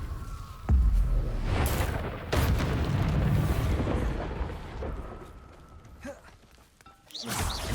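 Confringo explosive spell cast in Hogwarts Legacy, a sharp booming blast followed by a second heavy burst and rumbling decay, loud and close, with a further impact near the end.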